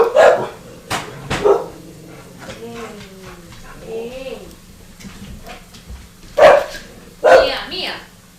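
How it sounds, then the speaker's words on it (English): Several excited dogs indoors let out loud, sharp barks in scattered bursts, with whiny yelps in between and a person talking quietly underneath. "Yes, the dogs are very excited."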